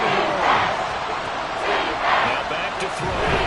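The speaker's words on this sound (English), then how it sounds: "This crowd turning up the decibel level." A packed football stadium crowd roars loudly and steadily during an NFL game against the Dolphins on a third-down play, a dense wall of cheering that swells in waves.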